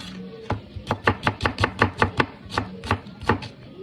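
A knife chops an onion on a board in a run of quick, rhythmic, close chops with brief pauses.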